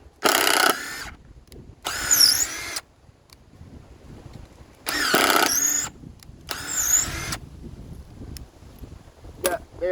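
A Baur 20 volt cordless drill spins up in four separate bursts of motor whine, each rising in pitch and then cutting off, close and fairly loud with quiet pauses between them.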